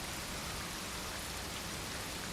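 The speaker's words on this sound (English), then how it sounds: "We're getting rained upon through this roof, which is a bit disappointing." Rain falling through a roof in the World of Subways 4 video game: a dense, steady hiss of downpour, constant and fairly loud, with no distinct drops or talking.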